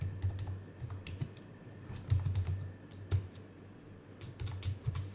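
Keys clatter on a computer keyboard in steady, irregular bursts of clicks at close range, with no voices over the typing.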